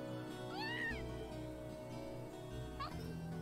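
A cat meows twice in the video game Trails of Cold Steel, first a long rising-and-falling cry, then a shorter one, both sounding over steady background game music.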